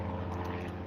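Propeller planes arriving at a small flight-school airfield, a steady low engine drone with a continuous hum, moderately distant and holding level throughout with no talk over it.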